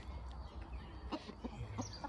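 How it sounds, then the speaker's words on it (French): A small rooster clucks in a handful of short, soft bursts, fairly faint against a steady outdoor background hum. "Il est joli, ce petit coq."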